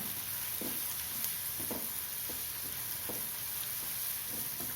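Potatoes sauté with turmeric and asafoetida in a pan, a quiet continuous sizzle broken by light, regular spatula scrapes.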